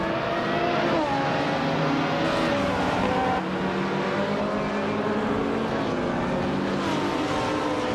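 2016 BMW M4 GTS race cars at Botniaring in a racing video game, a continuous loud roar of several engines revving and shifting together just after the start, with no voices.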